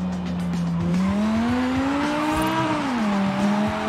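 A BMW M5 drifts in Forza Horizon 5, its engine droning loudly and rising and falling in pitch while the tires squeal through the slide, close and continuous throughout.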